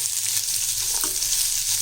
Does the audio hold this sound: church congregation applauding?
no